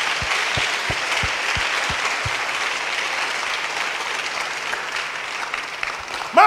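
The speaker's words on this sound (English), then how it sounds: "Clap your hand for Jesus." Broad applause from a crowd at an outdoor church crusade in Koforidua, Ghana, steady and full for several seconds after a few low rhythmic thumps, with a voice briefly rising at the very end.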